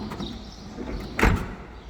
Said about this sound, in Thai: ประตูเป็นแบบดูดนะคะ ปิดเบาๆเท่านั้นเอง